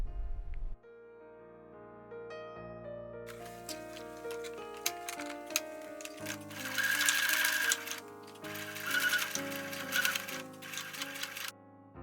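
A sewing machine runs in quick bursts as bra cups pinned to a dress are stitched about a millimetre from the edge, its rapid mechanical ticking clear against steady background music, with no talking.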